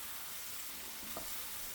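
Aubergine fries steadily in a pan over raised heat, a faint, even sizzle close by with one small pop partway through and no voices.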